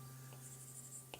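A stylus scratches across an iPad fitted with a paper-texture screen film while drawing in Procreate. Faint, soft scratchy strokes are followed by a brief sharper tap near the end, heard alone in a quiet room.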